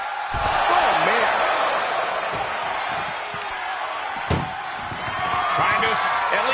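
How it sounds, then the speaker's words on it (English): A door slammed shut during a women's PPV match, one sharp loud bang standing out over a busy roaring arena crowd and commentary. "Trying to at least slam one door shut."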